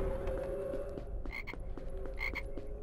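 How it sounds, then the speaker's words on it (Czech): Frogs croaking in the Harry Potter and the Philosopher's Stone game on PS2, a repeated rhythmic chorus of short croaks over a steady low background hum, with a couple of brighter chirping calls mixed in. "Ne, žabičky."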